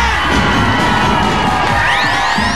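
A large crowd shouts and cheers loudly and continuously, a dense wall of voices with whoops and shrill cries rising toward the end.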